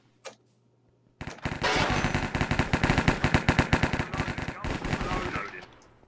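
Rapid automatic gunfire in Minecraft's Hypixel Cops and Crims mode, a sustained burst of closely spaced shots after one brief click, loud and near, lasting about five seconds before cutting off.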